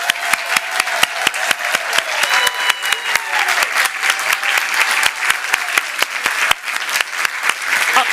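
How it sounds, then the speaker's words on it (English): An audience at a Burbank Board of Education meeting claps steadily, with a dense wash of applause and a few sharp, close hand claps standing out over it. "So now we can clap."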